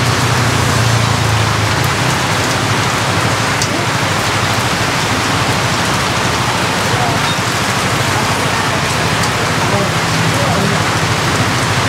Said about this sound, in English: We had to sit and wait for a few minutes because of the downpour.